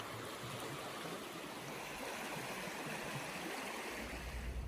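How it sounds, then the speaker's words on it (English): A creek flows steadily, a soft continuous gurgle and rush of water heard from nearby with no voices. "Just a beautiful creek."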